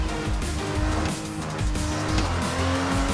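A Formula 2 race car laps the Bahrain circuit, its engine roaring loudly and continuously with rising and falling pitch through the corners.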